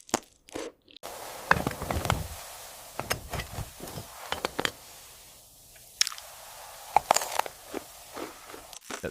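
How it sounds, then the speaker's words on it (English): Crunchy, hot food is bitten and chewed close to the mic in irregular crisp crunches and squishy bites, with quiet gaps between bursts. "The crunching is satisfying"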